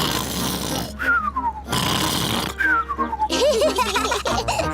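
A voice imitates a cartoon pig's loud snoring: rough snorting inhales alternate with long, falling whistles, repeated twice, then ending in wobbling grunts.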